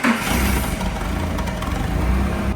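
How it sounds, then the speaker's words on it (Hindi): A forklift engine idles steadily while warming up before lifting a stone slab, a constant mid-pitched rumble close by with no speech over it. "फोर्कलिफ्ट का इंजन गर्म हो चुका है"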